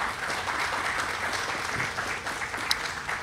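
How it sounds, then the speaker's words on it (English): A crowd at an event celebrating funding for a national museum breaks into continuous applause, a dense, even patter of many hands clapping across the full few seconds with no talk over it. "let's give him a round of applause"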